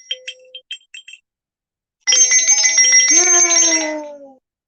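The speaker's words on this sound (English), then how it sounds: "let's ring the bell" An old Japanese geisha girl hand bell rings loud and close, a bright shimmering peal that sustains for about two seconds and fades, following a few short clicks and handling noises.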